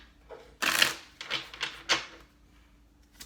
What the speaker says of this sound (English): this will be our last shuffle